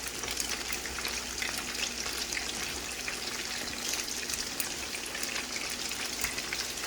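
Fried rice with peas sizzles loudly on high heat in a pan, a dense continuous crackling fry with faint scraping of a spoon stirring, no voices.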